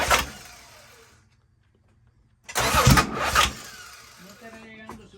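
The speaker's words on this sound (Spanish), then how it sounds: "Es el motor de arranque que hace ese pase así." The starter motor of a Toyota Supra cranks without the engine catching, giving a short, loud whirring burst after a quiet pause, with people talking before and after.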